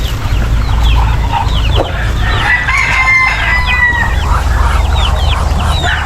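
Chickens cluck loudly and continuously, with a rooster crowing in the middle and a steady low rumble underneath.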